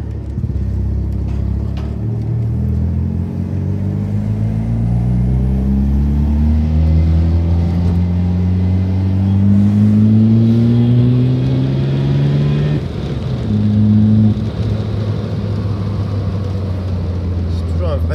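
A car engine hums and rises in pitch as the vehicle accelerates through the gears, with a steady road rumble underneath throughout.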